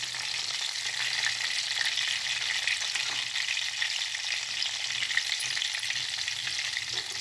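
Chicken pieces fry in hot oil for chicken kondattam, giving a dense, continuous sizzle that stays loud and even throughout with no talking.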